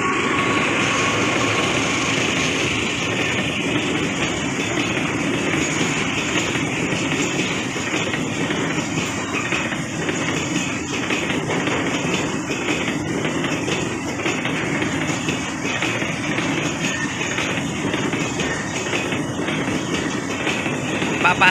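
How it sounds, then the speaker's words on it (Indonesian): A Sukacinta coal freight train rolls steadily through Penimur station in Indonesia, a loud, continuous rumble of wagons with rhythmic wheel clatter and faint metallic squeal, going on without a break. "kereta api Batubara Sukacinta sudah lewat di stasiun Penimur"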